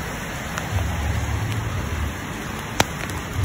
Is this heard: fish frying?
no